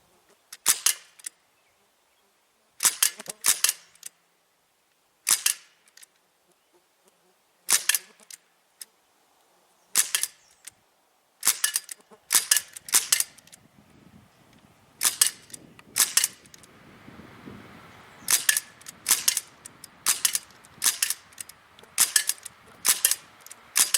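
Gunshots from a Sig MCX rifle fitted with a Tasco 3-9x40 Sportsman Plus scope, loud sharp cracks fired singly and in quick pairs and triplets with short pauses, outdoor echo and faint rustle between shots.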